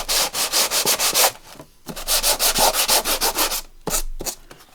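Fine grade sandpaper scrubs back and forth over a wooden pizza box, a close, loud series of rapid rasping strokes in three quick bursts separated by short pauses.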